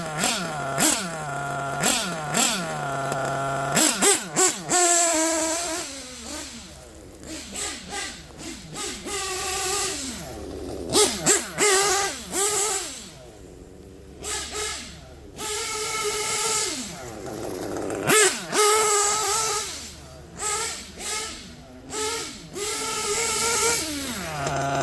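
Nitro-powered RC car engine being tuned, a buzzy high-pitched idle that repeatedly revs and drops in short bursts, with brief quieter gaps between blips, fairly close and loud.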